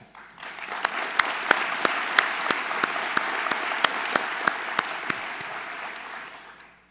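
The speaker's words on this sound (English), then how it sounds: "Let's applaud that." Steady applause from an audience at a lecture series breakfast fills the whole stretch, many hands clapping together with a few sharper claps standing out, fading slightly at the end.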